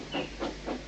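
A cartoon steam engine letting off steam: three rhythmic broad hisses in quick succession, fairly loud and close, with a steady low rumble underneath and no voices.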